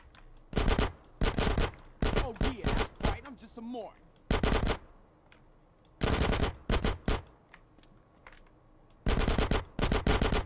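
Bursts of automatic machine gun fire from gang members in GTA San Andreas Definitive Edition, loud repeated volleys separated by short pauses, with faint voice-like sounds in between.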